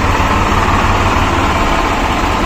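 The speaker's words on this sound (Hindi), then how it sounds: "और इंजन की आवाज़ सुनो तो" A Swaraj 735 tractor engine runs at a steady idle, a loud, close, rhythmic diesel rumble with constant low thumping and no break.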